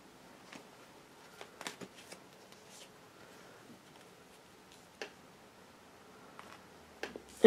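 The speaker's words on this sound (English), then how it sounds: "shuffle the tarot cards" Tarot cards are handled and shuffled softly at close range, with scattered light taps and flicks spread irregularly across a quiet background.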